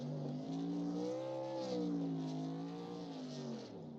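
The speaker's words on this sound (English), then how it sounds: "Trevor Ryan coming down to do his victory burnouts at the finish line." In the iRacing video game, a race truck at Talladega Superspeedway does victory burnouts at the finish line, its engine holding a loud, wavering rev that rises and falls continuously throughout.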